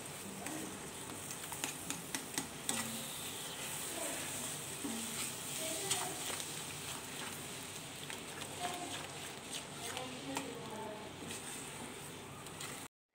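Eggs frying with rice in a pan over a high gas flame, a steady close sizzle running throughout with scattered stirring clicks and scrapes.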